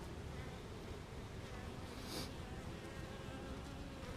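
Honey bees hum and buzz around a nuc hive outdoors, a faint, steady swarm drone with one louder bee passing close by midway.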